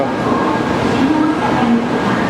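A train idles or rolls slowly at a platform in Japan, a steady low rumble with faint squealing tones from the wheels and the hum of station noise.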